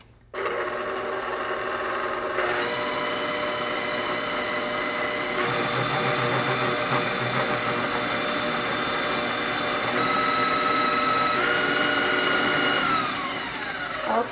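Electric stand mixer with a whisk beating chocolate chip cookie dough, a loud steady whirring drone that steps up in pitch and intensity after a couple of seconds and holds, close by with no talk.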